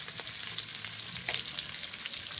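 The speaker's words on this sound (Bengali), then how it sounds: "আলু পেঁয়াজ দুটো একসঙ্গেই সুন্দর লাল লাল করে ভেজে নেব" Potatoes and onions fry in oil with a dense, continuous sizzle and occasional sharper crackles, close and fairly loud.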